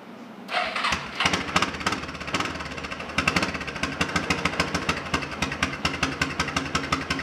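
A free Yamaha Big Bear 4x4 quad, under repair and still a little cold, cranks briefly and fires up, then runs with a loud, close, steady, rapid thumping exhaust beat.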